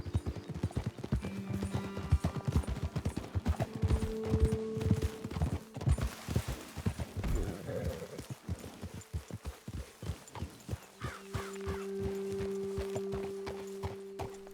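Horse hooves clip-clop at a rhythmic walking pace in the Red Dead Redemption 2 video game, close and distinct, while sustained music tones play underneath.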